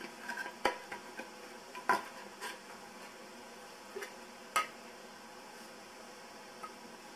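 Resin being mixed with its catalyst in a small container, making faint sporadic clinks and scrapes of a stirring tool against the sides over a quiet background hiss.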